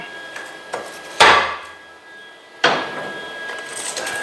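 A single sharp tap on the steel gas tank cross member of a 1978 Ford being fitted to a 2011 Super Duty truck, with a fainter tap before it and a second clear knock about a second and a half later, close and alone.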